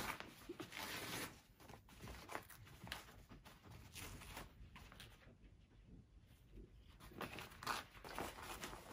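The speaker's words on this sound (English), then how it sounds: "we are going to tear off the paper stabilizer gently" Paper tear-away stabilizer being pulled gently off the back of a machine-embroidered in-the-hoop bib, a run of soft, irregular ripping and crinkling sounds up close, with a quieter pause midway before the tearing picks up again.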